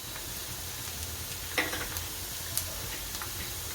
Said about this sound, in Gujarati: હવે આપણે હિંગ નાખશું